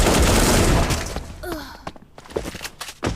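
Gunfire in the shooter game Bullet Angel: a dense, loud burst of rapid shots that breaks off into scattered single shots and thuds, close up.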